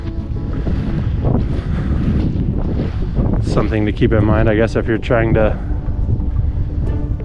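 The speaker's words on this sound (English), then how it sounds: "Sorry about the wind. The wind picked up a lot the last" Gusty wind buffets the microphone on open public land at Hickory Ridge WMA, a steady rumbling roar beneath someone talking close by throughout.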